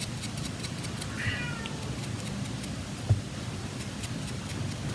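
A cat meows once, briefly and fairly faintly, over a steady background hiss with occasional soft ticks and a small thump.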